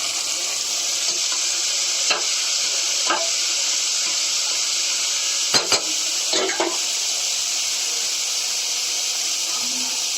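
Chicken biryani masala with tomato, coriander and mint cooks in a pan, a constant loud hiss with a few scattered scrapes of stirring, close by with no talk.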